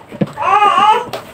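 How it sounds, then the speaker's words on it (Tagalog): Infant babbles loudly and close by in a home setting, a short warbling vocal run with brief sounds before and after. "Yan ang ingay ni baby."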